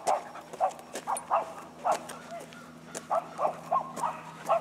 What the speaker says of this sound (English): Neighbors barking.